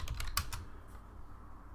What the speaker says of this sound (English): I've been typing that and never even typed it.